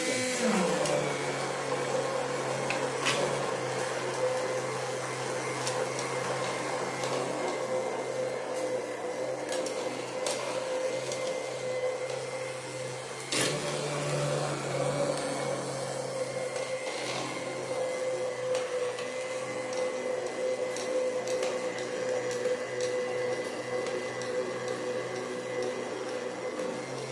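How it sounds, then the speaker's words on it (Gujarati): A blender whirs steadily while mixing chutney for ghuto, a continuous motor drone that holds for the full length with a brief shift midway. "અને હવે આપણે આની અંદર થોડું બ્લેન્ડર ચલાવવાનું છે, એટલે બધી ચટણી છે ને મિક્સ થઈ જાય."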